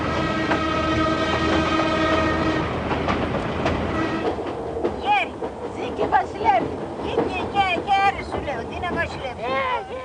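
A passenger train climbs through the mountains of the southern Peloponnese in Greece, wheels clattering and rumbling steadily with a long horn blast early on, while people talk aboard over the rolling noise.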